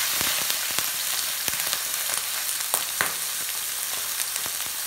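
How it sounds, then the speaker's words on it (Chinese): Chicken thigh, skin side down, pan-frying slowly over medium-low heat in rosemary and garlic oil, giving a steady close sizzle with frequent small pops and crackles throughout. "我们把鸡肉放进来，让它在里头慢慢的煎"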